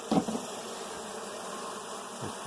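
Honeybees in an open hive during an inspection, a steady close buzzing drone that carries through the whole short moment, with a couple of soft handling bumps and no talk.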